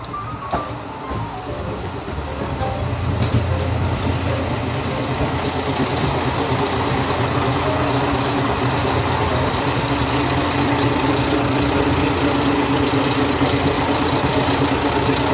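The first train of the Soya Main Line at Minami-Wakkanai station rumbles with a steady, loud engine drone that swells after a quieter start and holds for many seconds.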